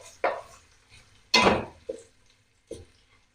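Onions being stirred in hot ghee in a pan: a handful of separate utensil clanks and scrapes, close and moderately loud, spaced apart with quiet gaps and no talking.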